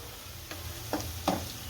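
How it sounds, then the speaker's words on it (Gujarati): Chili powder, turmeric and salt stirred into hot oil for Rajasthani gatte ki sabzi, with three soft scraping strokes of a spoon over a faint, steady sizzle, close and quiet, no voices. "તેલ છૂટું પડી જાય ત્યાં સુધી મેળવશું"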